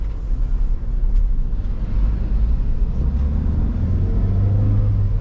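A Toyota Avanza pulls away as the clutch is eased out, its engine a steady low rumble that rises slightly toward the end, heard from inside the car with no talk.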